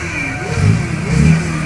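A car engine revs loudly twice in quick succession, its pitch climbing and falling over a steady idle rumble.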